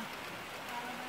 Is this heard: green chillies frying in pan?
no